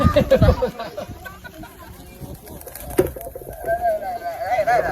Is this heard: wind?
no